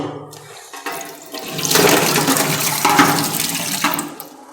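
Tap water runs steadily as something is rinsed under it at a sink, a loud close splashing rush that builds after a brief start and continues without speech.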